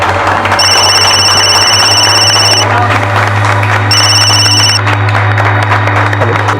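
A telephone rings in a crime-drama scene, two bursts of bright electronic ringing over a steady low hum and background bed.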